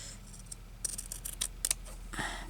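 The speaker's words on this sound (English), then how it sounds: "I might just cut a bit off this bottom part here." Scissors snip through a small handmade journal, a series of sharp, close crisp cuts, clustered clicks in quick succession with short pauses between.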